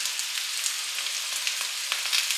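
Potato slices sizzle in a pan for roasting, a steady close crackle with scattered sharper pops and no voices.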